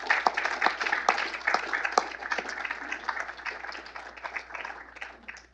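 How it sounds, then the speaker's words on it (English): Audience applause at a policy panel event on the military, a crowd clapping in a brisk scatter of hands that gradually thins and softens over several seconds. "Please give them a heartfelt round of applause."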